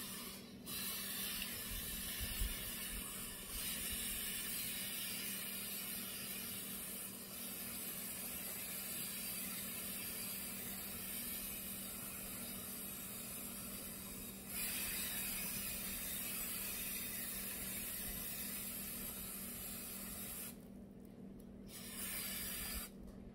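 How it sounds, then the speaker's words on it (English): Muc-Off chain lube spraying in a straight stream onto a bicycle chain as it rotates, a steady close hiss running nearly continuously with faint mechanical ticking from the turning drivetrain. "Muc-Off sprays in a nice straight stream."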